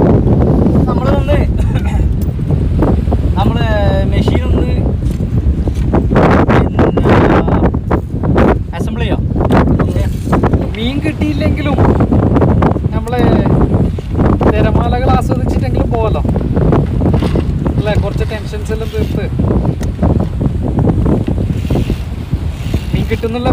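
Strong wind buffets the microphone on a beach in Abu Dhabi during a fishing outing, with surf rolling beneath it and someone talking over nearly the whole stretch.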